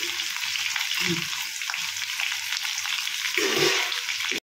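Slit green chillies tossed into potatoes frying in a pan for aloo posto, a dense close hiss of oil with soft stirring thumps and a brief swell of sizzle near the end before it cuts off, no voices.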